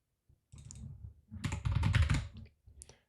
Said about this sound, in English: Just start typing it in.